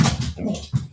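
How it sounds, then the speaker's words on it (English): A dog barks indoors in a few loud, close, rough bursts with short gaps between them. "You don't need to bark."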